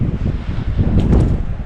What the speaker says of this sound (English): It's kind of breezy.